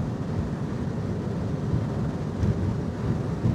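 Twin outboard engines on a Viggo C10 offshore boat drone at high speed, a deep, steady roar mixed with wind and rushing water, constant and close throughout.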